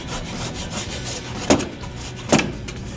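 Sandpaper rubs along a wooden hockey stick in a continuous scratchy rasp, with two sharper, louder strokes standing out near the end, heard close up with no voices.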